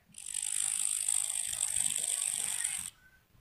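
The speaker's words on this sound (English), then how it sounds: "grasshopper," A grasshopper chirps in one continuous, high, raspy trill lasting nearly three seconds, fairly close and alone, then stops abruptly.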